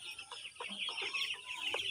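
Chickens cluck on a poultry farm, a steady mix of short calls and chatter over constant high barn noise, with no talk.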